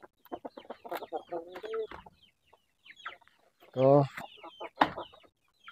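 Shamo chickens cluck in bursts around a coop during an egg harvest, the fowl calls close and fairly loud, alternating with someone talking over them.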